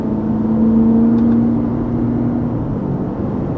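A Ford truck engine drones loudly in third gear near 3,000 RPM, a steady low roar with a brief rising tone as the driver shifts, heard from inside the cab.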